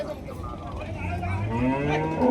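Cattle at the Loni cow market in Maharashtra, with a drawn-out bovine moo that rises and swells near the microphone over a busy background murmur.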